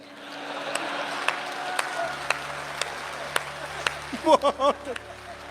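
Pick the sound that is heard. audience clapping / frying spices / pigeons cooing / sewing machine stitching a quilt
audience clapping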